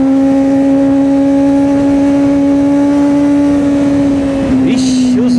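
Kawasaki Z800 motorcycle engine holding a steady, loud drone with rising pitch, then dropping off near the end as the rider backs off, with wind noise and a voice speaking over it.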